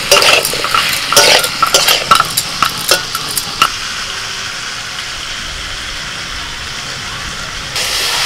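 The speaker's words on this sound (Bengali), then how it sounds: "কিছুক্ষণ ভালো করে নাড়াচাড়া করে নিয়েছি" Tomato, green chillies and ginger-cumin are stirred in a pan, with a spatula scraping and clattering in bursts over a soft frying sizzle that keeps going alone once the stirring stops.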